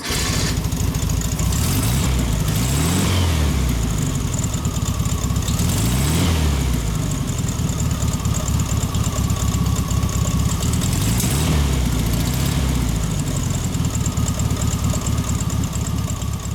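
A 1973 Volkswagen Thing engine runs at a steady idle, loud and close, with a continuous throbbing rumble and a few brief rises in revs.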